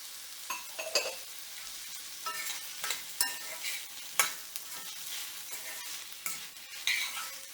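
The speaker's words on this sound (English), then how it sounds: "keep sauteing till the tomatoes get mushy." Tomatoes sauteing for a fish curry, with a soft steady sizzle in the pan and intermittent scraping stirs of a spoon, close and fairly quiet with no voices.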